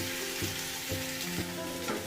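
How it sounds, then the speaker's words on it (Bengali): Lote fish and eggplant fried in a pan for begun bahar, with a steady close sizzle and about four regular scraping strokes as the food is stirred, no voices. "খুব ভালো করে আমি নেড়ে একদম ভাজা ভাজা করে নিয়েছি"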